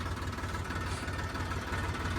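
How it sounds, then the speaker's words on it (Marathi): A tractor engine runs steadily throughout, a continuous low rumbling drone at moderate level with no talking over it. "मालकीन शिकले ट्रॅक्टर हळूहळू"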